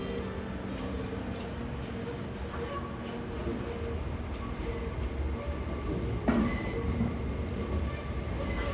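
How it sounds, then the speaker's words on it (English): Spacia X luxury train rolls into a Japanese station, a steady loud rail rumble with a high wheel squeal rising briefly midway and faint clatter throughout. "The squealing of wheels soon emanates from beyond the platforms, and in pulls the Spacia X."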